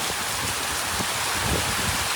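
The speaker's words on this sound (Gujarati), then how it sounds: "આવ એવો વરસાદ આવે રહ્યો" Heavy rain pours down in a dense, steady downpour, loud and close, an unbroken wash of noise with no voices.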